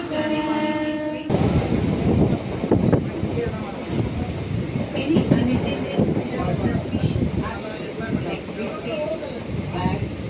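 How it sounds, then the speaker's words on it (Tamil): A local passenger train from Arakkonam to Perambur, near Chennai, rumbles along steadily with rail clatter throughout, people talking close by over the noise, and a tonal hum at the very start. "Central train கிளம்பிடுச்சு."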